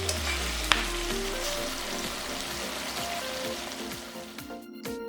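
Soy-glazed pork back rib sauce with chili bubbles and sizzles steadily in a covered pan, a dense crackling simmer that is close and fairly loud, with a clink near the start.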